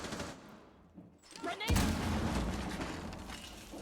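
Gunfire and a grenade blast in a competitive video game match, with a quiet stretch before a sharp, loud explosion that rolls into rapid crackling shots and lingering reverberation.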